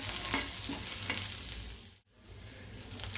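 Chopped onions fry in a pan for misal, a continuous close sizzle broken by soft scraping stirs, with a brief near-silent dip partway through before the frying resumes.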